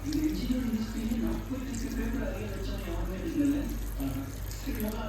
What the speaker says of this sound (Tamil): பச்சை தண்ணி ஊற்றிக்கலாம்.